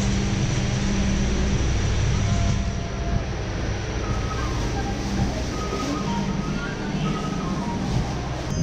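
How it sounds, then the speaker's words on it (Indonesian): Steady rumble and rattle inside the dining car of the moving Wijayakusuma passenger train in Indonesia, a continuous loud low drone with faint clatter and no one speaking. "Dan ini merupakan kereta makan dari kereta api Wijayakusuma."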